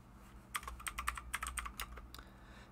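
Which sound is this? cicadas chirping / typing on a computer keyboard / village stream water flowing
typing on a computer keyboard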